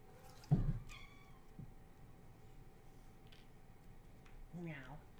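A cat meowing indoors near a tabletop dice game, one clear meow early on followed by a second, longer meow near the end, over quiet background hum.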